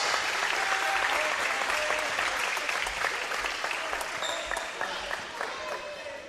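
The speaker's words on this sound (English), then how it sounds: "Please, round of applause." Crowd applause fills a high school basketball gym, a loud sustained clapping of many hands that slowly tapers, with a few whistles and voices mixed in.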